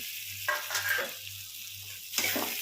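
Fried potato pieces and soya chunks go into a pan of cooking vegetable curry and are stirred, giving a soft steady sizzle with two brief bursts of scraping and clatter, no speech.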